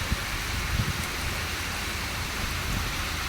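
Heavy rain pouring down with wind, a dense steady hiss of drops on surfaces with a few louder spatters, continuous and enveloping throughout.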